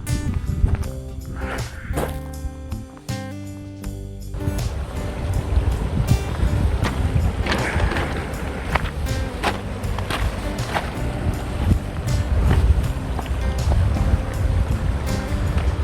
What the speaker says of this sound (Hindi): यहाँ से पानी बह रहा है, ये पूरे शोर से नीचे तक जाता है।